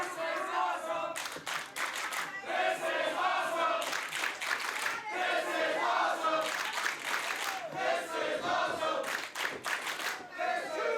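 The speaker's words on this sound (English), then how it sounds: "The sold-out crowd here in Nashville showing their respect for Bailey and Slater." A sold-out wrestling crowd in Nashville roars and cheers at a TNA iMPACT event, a loud sustained arena din with swelling shouts and bursts of rhythmic clapping throughout.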